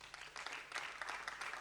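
Faint, distant audience applause on a TV show set. A soft, even patter of clapping from the studio crowd runs for under two seconds at low volume.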